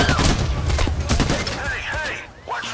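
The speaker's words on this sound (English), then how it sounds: "Hey! Watch where you're shooting." Gunfire in the video game Payday The Heist: a dense, rapid fusillade of loud shots with bursts overlapping throughout, close and continuous, with some voice activity in the mix.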